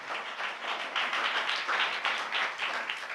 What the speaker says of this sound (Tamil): நல்ல 2 கைகளை தட்டி ஆண்டவருக்கு நன்றி சொல்லுங்க.